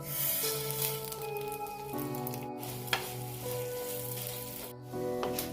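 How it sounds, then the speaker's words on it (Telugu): Steady, close sizzling of cumin, coriander seeds and urad dal frying in hot oil, a continuous crackling hiss with a faint tone droning underneath and a brief clink near the middle. "ఇది కొంచెం ఫ్రై చేసుకోవచ్చండి"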